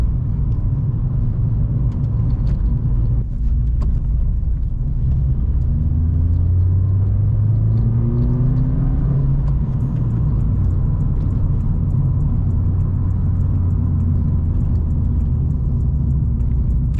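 A Vauxhall Corsa 1.4 with a loud exhaust accelerating hard in first gear at night, a continuous deep rumbling drone with rising engine pitch, heard from inside the car without letup.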